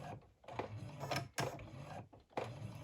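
A sewing machine stitches a V-neck band, running in a few short, quiet bursts of rapid mechanical chatter with brief pauses between them.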